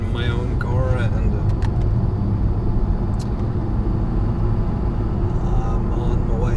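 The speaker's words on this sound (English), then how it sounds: "I am in a vehicle and driving it" Steady engine and road rumble inside a private car while driving, heard from the cabin as a constant dense drone with a few faint ticks, unchanging over several seconds.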